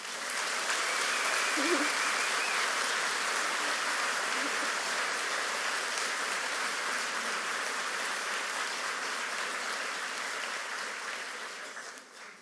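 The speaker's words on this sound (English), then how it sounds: "can we please give them a round of applause?" A graduation audience applauds for a graduate's parents in one sustained round of clapping that lasts about twelve seconds and fades out at the end.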